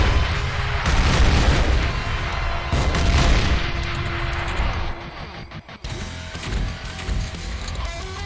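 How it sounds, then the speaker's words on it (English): Missiles launch and explode in the Xpiratez strategy game, a loud, dense run of booming blasts and bursts that fills the stretch, with a short dip before further thuds. "And there goes the missiles."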